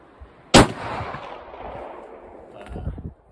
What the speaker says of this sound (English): let's see what a shotgun slug feels like in a little 6-pound rifle